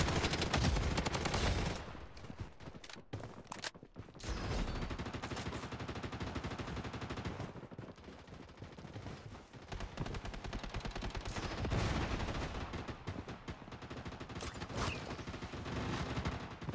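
AK and P90 automatic fire in Bloodstrike: loud, sustained rapid bursts rattling almost without pause, strongest at the start and then continuing in long back-to-back volleys.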